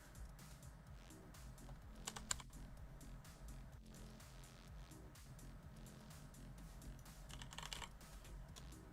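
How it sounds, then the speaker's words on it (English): Fingers tap steadily on a computer keyboard during a PC gaming session, producing a continuous run of soft, quick clicks with occasional louder keystrokes, fairly quiet and with no talking. "Okay, so my keyboard's working."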